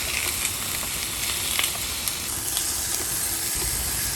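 Chicken wings sear in a hot frying pan, giving a steady, dense hiss and sizzle with small crackling pops throughout, close and fairly loud, with no talking.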